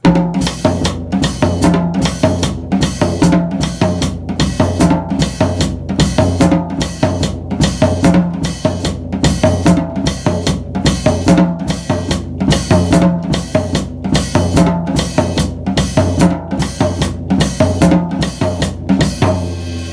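A steady, driving merengue groove on a drum kit, with splashed open hi-hat accents on beats 2 and 4 and snare hits repeating throughout.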